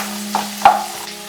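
Vegetables for chicken fried rice sizzle over a high flame as a utensil stirs them, giving two sharp scraping clinks against the pan over a steady low hum, with no voices.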